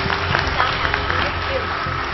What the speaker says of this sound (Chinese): 这点完全值得全场再次给他掌声。